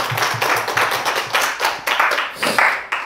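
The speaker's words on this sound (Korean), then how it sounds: "박현우님과 허혜진님께서 올리버로서 쑥쑥 잘 자라가실 수 있도록 우리 큰 박수로 함께 환영해 주시면 감사하겠습니다" A church congregation at a Sunday worship service claps together to welcome new members, producing a dense, steady patter of many hands with rhythmic accents, filling the room for a few seconds.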